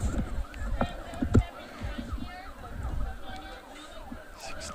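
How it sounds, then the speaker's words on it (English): Wailing emergency sirens sweep up and down at a distance, overlapping one another, with faint crowd noise and scattered movement underneath at an outdoor girls' lacrosse game. "Oh, some more sirens, Rick."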